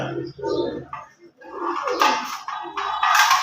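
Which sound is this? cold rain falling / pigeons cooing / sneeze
pigeons cooing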